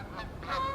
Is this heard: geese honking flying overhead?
yes